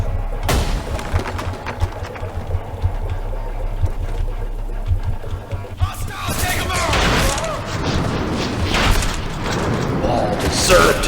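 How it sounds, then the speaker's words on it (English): Grenade explosion and gunfire in the video game Trepang2: a low rumbling drone gives way to a heavy boom, followed by loud, chaotic bursts of gunfire and impacts, with voices shouting over the action. "Grenade!"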